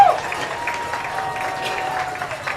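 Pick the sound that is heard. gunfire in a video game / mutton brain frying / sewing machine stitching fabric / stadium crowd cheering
stadium crowd cheering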